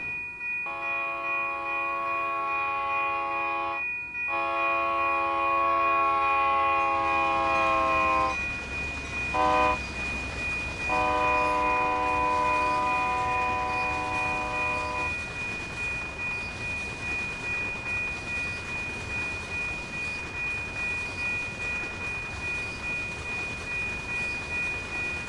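A GP38-2 locomotive bell rings steadily on a night train run in Train Sim World 2020, heard alongside loud, sustained horn blasts and a low engine rumble, with no talking.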